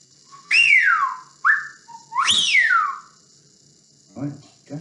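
A wildfowler's widgeon whistle, a duck call imitating a wigeon, gives two loud rising-then-falling whistled notes with a short blip between, close and clear, followed by a fainter low burst near the end.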